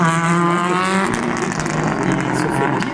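A Ford Fiesta R5 rally car at a Wallonia rally, its engine revving loud and close with rising and falling pitch as it drives past, accompanied by talking.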